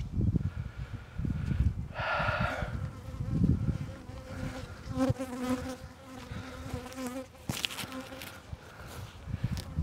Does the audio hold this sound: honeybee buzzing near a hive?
yes